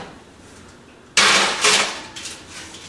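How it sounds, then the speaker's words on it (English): A baking tray of sweet potato fries slides into a home oven with a sudden metallic clang and scrape, followed by a few lighter rattles and knocks of metal and racks, close and fairly loud. "Now let's go ahead and pop this in the oven"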